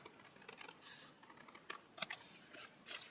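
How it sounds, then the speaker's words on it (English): Long-bladed scissors slice through card in a few quiet, uneven snips and scrapes, close and faint with no talk. "you can just guide the scissors along"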